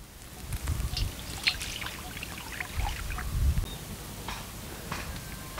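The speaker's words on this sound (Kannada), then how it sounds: "ಎಣ್ಣೆ ಹಾಕೋತಾ ಇದ್ದೀನಿ." Cooking oil poured into a pan for an egg and capsicum dish, a soft trickling pour with low rumbling bursts and light crackles, close by with no talking.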